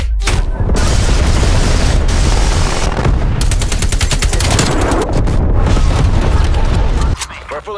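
Bomb strike explosions rain down in Call of Duty: Black Ops Cold War, a loud, continuous barrage of booms and rattling gunfire that barely lets up for several seconds before easing slightly at the end.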